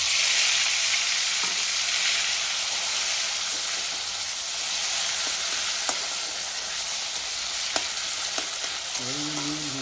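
Chopped tomatoes fry in hot oil in a pan with a steady, dense sizzle that runs throughout, with a few faint clicks of stirring and a brief low hum near the end.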